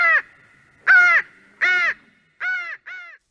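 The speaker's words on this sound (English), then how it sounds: "the silence was shattered only by the scream of a raven" A raven caws five times, harsh and loud, in evenly spaced calls against silence, used as a sound effect in a narrated ghost story.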